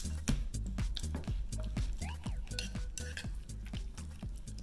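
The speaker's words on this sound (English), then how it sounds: "At haluin natin." Shrimp biryani sauce being stirred in a pot, a utensil clinking and scraping against the pot in a steady repeated rhythm, close up, with a faint sizzle underneath and no talking.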